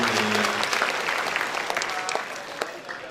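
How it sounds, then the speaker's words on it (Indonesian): Audience clapping at a university welcome ceremony for new students, a dense round of applause with sharp individual claps standing out, steady then tapering off toward the end. "sekali lagi tepuk tangan yang meriah untuk para mahasiswa prestasi yang sudah tinggi"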